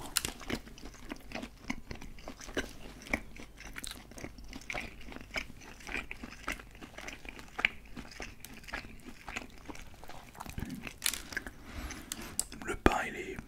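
Close, intimate chewing and crunching of an Uber Eats burger with soft bun and beef patty, steady wet bites and mouth sounds throughout, with faint whispering.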